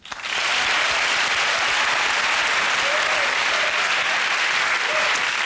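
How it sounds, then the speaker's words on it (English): Sustained studio audience applause on a comedy panel show, steady dense clapping that swells in within the first half second and holds loud and even throughout with no talk over it. "Please join me in a round of applause for our people and their things."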